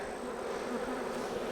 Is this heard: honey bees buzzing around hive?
yes